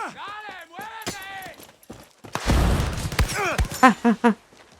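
Gunfire in the video game Far Cry 6 during a jungle enemy base assault: a dense burst of shots in the middle, with voices and other game sounds before and after it.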